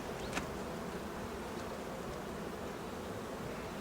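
Dense, steady buzzing of many honeybees close by at an open hive, a continuous hum with occasional louder individual bees passing.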